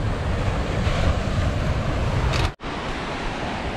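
Steady roar of surf breaking on a beach, broad and continuous with wind buffeting the microphone, a brief dropout near the end.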